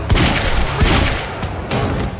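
Rapid, loud gunfire from an FN-57 pistol in the video game Quantum Break, bursts of close shots with heavy booming reports, one after another across the clip.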